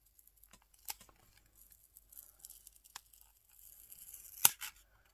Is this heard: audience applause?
no